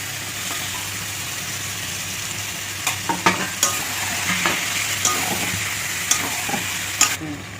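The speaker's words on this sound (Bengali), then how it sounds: "এটাকে কষাবো একটু, চিকেনগুলো দিয়ে দেবো।" Chicken stir-fried in a pan with green chili paste, a steady sizzle with repeated sharp scraping clicks of a spatula stirring through the mixture, close up and loud, with no talk.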